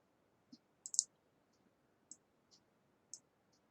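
A few light, close mouse clicks on a computer, including a quick double click, scattered sparsely over quiet room tone.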